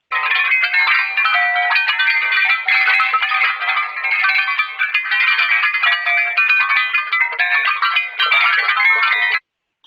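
Dense bell tones, transposed down and time-stretched, ring in overlapping layered copies, forming a continuous shimmering wash that holds steady for about nine seconds, then stops abruptly.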